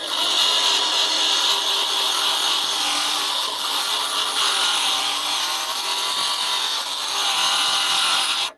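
A scratch eraser scrubs across the metal surface of a flat top griddle to condition it, giving a steady, loud, hissing abrasive rasp that runs continuously and then cuts off abruptly.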